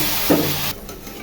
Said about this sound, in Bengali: এখানে আমি সরষের তেল দিয়ে দিলাম, আর এখানে কিছু কালো জিরা দিয়ে ফোড়ন দিচ্ছি।